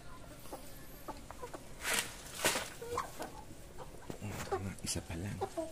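Backyard hens that have just started laying eggs cluck in short, repeated bursts at moderate distance, and a person talks quietly near the end.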